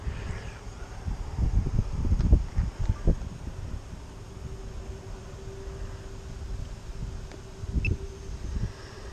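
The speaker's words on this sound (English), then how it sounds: "Wind's coming from the north" Gusty wind on a very windy day buffets the microphone in low rumbling bursts, strongest early on and easing then returning near the end, with a faint steady mechanical hum underneath.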